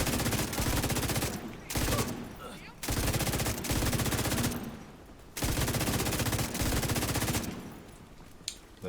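Rifle gunfire in the video game The Division 2, loud rapid bursts of automatic fire broken by short pauses, with a voice speaking faintly underneath.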